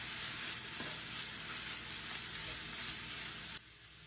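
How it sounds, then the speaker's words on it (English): Beef and garlic frying in a pan give a steady, loud hiss, close up, with faint scraping from stirring under the sizzle. The sizzle drops slightly near the end. "So now what we want to do is bring our beef and bring that back to the pan. We'll give that a good stir."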